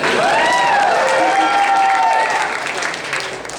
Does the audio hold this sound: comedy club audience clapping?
yes